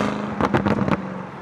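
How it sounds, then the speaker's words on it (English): A rapid burst of about five sharp exhaust pops crackles over a car engine's idle hum, then the engine settles back to a steady drone. "when you lift off the throttle and it goes pa-pa-pa-pa-pa"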